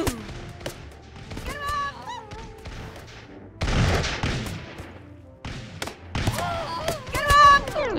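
Musket volleys in Totally Accurate Battle Simulator, heard as scattered sharp cracks and a few heavy thumping bursts of massed fire, loud and near, with game sounds between them.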